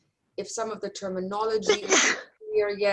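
A single sharp sneeze bursts out in the middle of a lecturer's speech during an online class session, close and loud, with talking before and after it.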